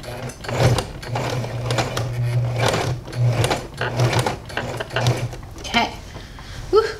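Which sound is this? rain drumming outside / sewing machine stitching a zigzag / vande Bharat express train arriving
sewing machine stitching a zigzag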